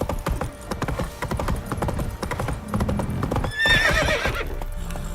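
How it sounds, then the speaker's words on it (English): Horses clip-clop with steady, close hoofbeats on hard ground, and a loud whinny rises partway through. "Time to water the horses."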